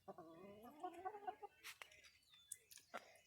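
A chicken near a ramp gives a short run of quiet, rising clucks, followed by a few sharper scattered calls and rustles, all faint with no talking over them.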